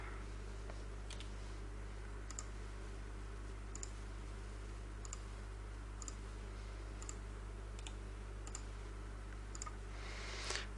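Computer mouse right-clicking: faint, sharp single clicks at fairly regular intervals of about a second, over a steady low electrical hum, no speech.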